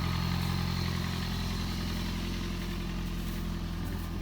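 A 2005 Toyota Prius hybrid engine runs steadily at idle, a low even hum with no talk over it.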